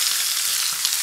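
Irish stew sizzles and spits in a hot pan, a bright, steady frying hiss heard up close and alone.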